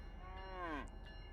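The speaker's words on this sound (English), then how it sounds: "Why is there a cow sound here?" A single cow moos once in Run 8 Train Simulator, a drawn-out low bellow that rises and then falls, moderately loud against a quiet rumbling background.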